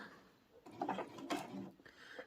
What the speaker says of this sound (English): do a couple of back stitches, and then stitch to the outside edge, and then stitch back across